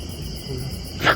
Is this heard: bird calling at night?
yes